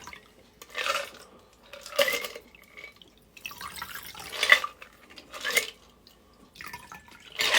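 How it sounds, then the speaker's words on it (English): A strained cocktail with extra fruit is poured in a long stream, a faint liquid trickle and drips into a glass with a few light clinks, heard close and alone without talk. "The long pour."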